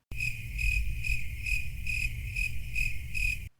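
Steady crickets chirp in a regular pulsing rhythm, about seven evenly spaced bursts over a continuous high trill, loud and close with a low hum beneath and no voices.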